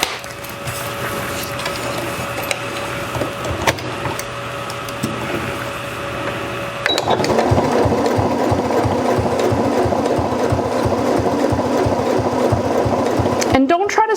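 A sewing machine stitching, first a softer uneven whir, then a louder steady run of rapid even needle strokes, close up and continuous before stopping abruptly at the end.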